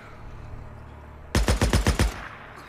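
Enemy gunfire rings out in Days Gone, a single rapid burst of about six loud, close shots in quick succession, following a quiet stretch.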